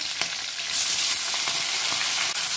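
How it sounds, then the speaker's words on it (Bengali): Chopped tomatoes hitting hot oil with bay leaf, nigella seeds and chopped chilli, a loud, close hiss that jumps up after the first moment and then sizzles steadily with faint stirring. "এটাকে একটু ভেজে নেব"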